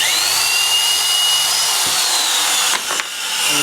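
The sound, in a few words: power drill boring dowel holes in wood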